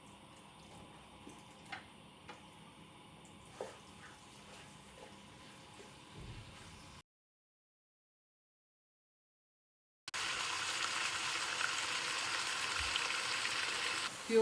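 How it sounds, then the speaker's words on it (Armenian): Spices with chicken breast frying in a pan over gentle heat: first faint ticking and light crackles, then after a short silence a louder, even sizzle that holds to the end. "համեմունքները տապակվեց, տապակվում այս ընթացքում, հիմա ավելացնում եմ կրծքամիսը"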